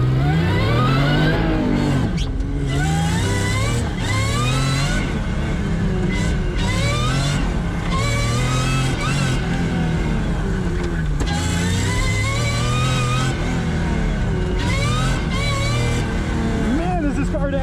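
A supercharged V6 Toyota accelerates hard on an autocross course at Portland International Raceway, its engine note rising and falling steadily through repeated shifts and corners, loud and close throughout with a voice talking over it.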